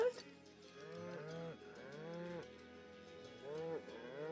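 Cattle moo repeatedly in a farming area of Gongaga in the video game Final Fantasy VII Rebirth, with several drawn-out, overlapping lowing calls at moderate loudness and no speech.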